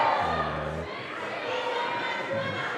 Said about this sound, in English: I think we have a really big cheer up for Alexander.